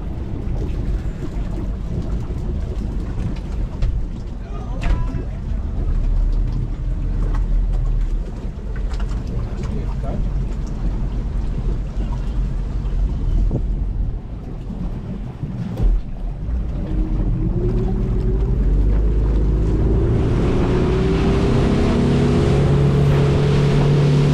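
A motorboat engine drones steadily for a long stretch on Lake Atitlán, Guatemala, with wind and water rushing around it, rising in pitch and intensity near the end.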